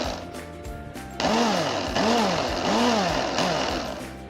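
A mixer grinder whipping fresh cream with condensed milk in a mixie jar kicks on loud and close after about a second, a harsh high-pitched motor whine that rises and falls in repeating surges.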